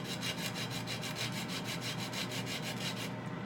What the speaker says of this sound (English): I'm going to go ahead and zest, which I have a cheese grater